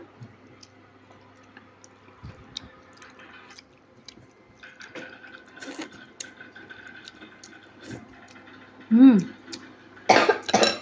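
A few sharp coughs from a child burst out near the end, with quieter clicks, clatter and low talk in the background beforehand during lunch.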